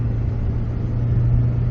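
A 2013 Kia Optima Hybrid with a generator motor position sensor fault being driven, a steady low engine hum and rumble from inside the car, even and continuous for a brief moment.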